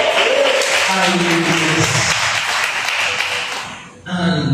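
Loud, sustained applause from a church congregation filling a hall during a worship service, thinning out near the end as a voice speaks over it.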